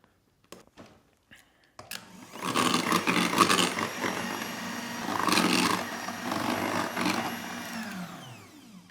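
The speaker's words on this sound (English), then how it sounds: "Once you've added all the sugar, keep whisking." Egg whites and sugar are beaten into meringue with an electric whisk, which whirs in two sustained bursts after a few soft clicks and knocks, moderately close and fairly quiet.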